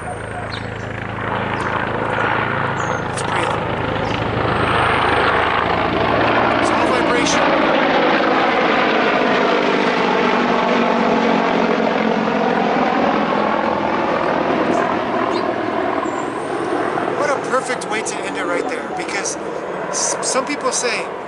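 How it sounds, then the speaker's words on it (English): A big military helicopter passes overhead, its rotor wash swelling into a loud, pulsing roar with sweeping Doppler shifts that then slowly recedes, heard over a speaking voice and lasting around twenty seconds. "it was a big old military helicopter that went over us"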